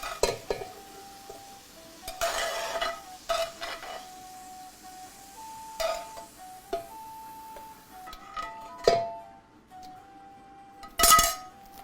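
A slotted spoon scraping and clinking as ingredients move from a cast iron skillet into a soup pan, with scattered metallic taps and clatters of varying loudness over a quiet background hum.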